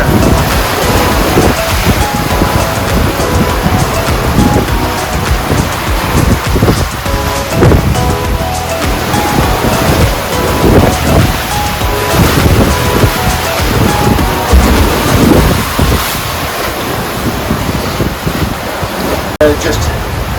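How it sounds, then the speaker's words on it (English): Strong wind buffets a sailing boat at sea, a steady loud roar of gusts and wind noise over the microphone with waves and surf underneath, continuous throughout. "the wind hasn't really dropped down at all"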